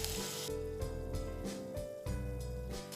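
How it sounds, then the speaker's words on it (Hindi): Cumin, chopped ginger, ginger paste and garlic frying in a pan for biryani masala, a steady close sizzle with occasional stirring scrapes. "इसको अब हम भूनेंगे"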